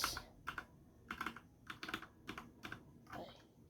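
Keyboard shortcuts are typed on a computer keyboard, about a dozen light, close key clicks in small irregular clusters, fairly faint, with a faint voice briefly underneath.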